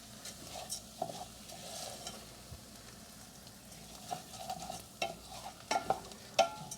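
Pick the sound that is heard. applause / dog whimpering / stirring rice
stirring rice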